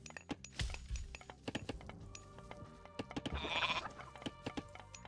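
Goats bleat repeatedly in the Age of Mythology Retold game soundtrack during a tournament match, with sharp clicks and clattering effects scattered throughout and a louder burst of bleating midway.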